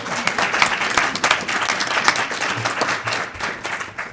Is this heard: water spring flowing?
no